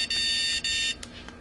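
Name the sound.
dog training collar beep mode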